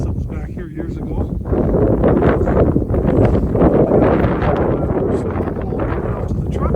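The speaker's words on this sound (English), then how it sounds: "Boy, it's windy up here" Wind buffeting a microphone on a hilltop in Sugar River Alder Forest Preserve, a loud rumbling roar that gusts steadily throughout while someone talks over it.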